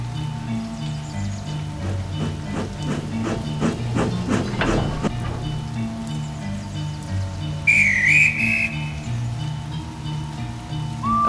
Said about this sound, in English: Edward blew his whistle and set off.